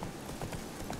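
Horse hooves clip-clop in a quick, even rhythm as a horse moves through a crowd in The Witcher 3 video game, steady mid-level footfalls over game ambience.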